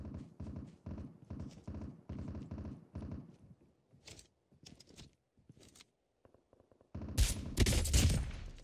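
Gunfire in Call of Duty Mobile battle royale: rapid, repeated bursts of shots ring out at a moderate distance, pause into scattered single shots, then a loud, close volley erupts at the end.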